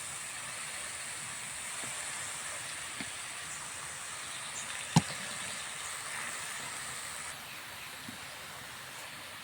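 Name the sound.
mustard oil hissing in a pan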